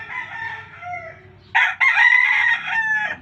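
A rooster crows loudly and close by in one long, strained call that follows softer clucking and calling from the fowl.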